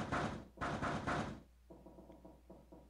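In the video game 999, someone bangs on a locked door: two bursts of heavy, close pounding, followed by a quieter run of rapid knocks.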